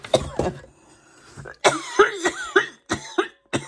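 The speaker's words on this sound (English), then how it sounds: "That's that cough. It just comes back sometimes." A woman's recurring cough while unboxing a lot of vintage jewelry, several close, sharp coughs and throat clearings in uneven bursts, with quiet pauses between them.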